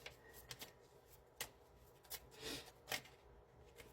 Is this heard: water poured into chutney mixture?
no